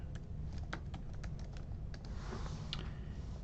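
Rapid keystrokes on a computer keyboard as a search query is typed, a run of light, close clicks with an uneven rhythm over steady low room hum.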